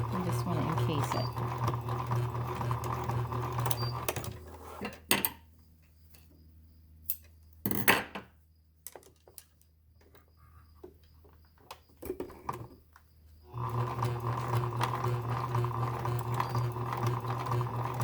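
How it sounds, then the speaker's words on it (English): Sewing machine stitching a wire casing on a fabric face mask, running in steady loud bursts at the start and end with a pause of scattered clicks and handling noises in between. "I'm going to sew on either end of that wire so it doesn't shift."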